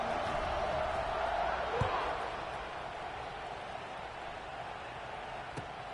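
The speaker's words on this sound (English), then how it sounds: "this crowd is buzzing after that last score" A stadium crowd in the College Football 26 video game keeps up a broad, steady roar after a score, a constant wash of cheering with a faint thump or two.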